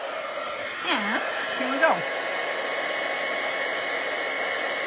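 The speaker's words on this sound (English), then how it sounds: "I should have heat embossed it so you guys didn't have to do the crazy noise" A heat embossing tool blows a steady, loud stream of hot air onto embossing powder for a cardmaking project, a continuous whoosh running throughout while a voice speaks briefly near the start.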